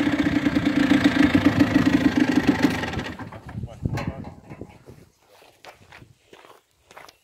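A Hercules XE 9 moped engine runs with a fast, steady putter for about three seconds, then dies away into scattered knocks and handling noises.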